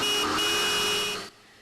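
A Taiwanese police car sounds a single loud, sustained horn blast at close range during a traffic stop of a fleeing white sedan, lasting just over a second before cutting off.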